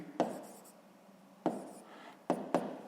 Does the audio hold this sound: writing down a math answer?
yes